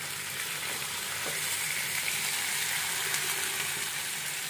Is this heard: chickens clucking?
no